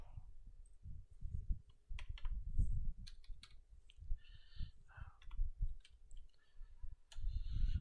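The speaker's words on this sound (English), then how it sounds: "Just typing a message out." Someone types a message on a computer keyboard during a podcast recording: steady, close clattering keystrokes in irregular bursts over a low background rumble, with no clear speech.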